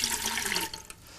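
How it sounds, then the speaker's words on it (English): Water pours in a splashing stream into a cauldron used for a stage magic trick, then trails off into a few quieter drips, all brief and close. "We're going to pour some water inside the cauldron."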